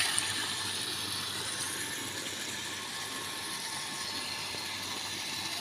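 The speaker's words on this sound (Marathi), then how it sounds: "आपण पाहतोय हा नळही सुरूच आहे" A municipal tap left running into a filthy overflowing street drain in Erandol, giving a steady hiss of flowing water that holds at even loudness throughout, with no voices.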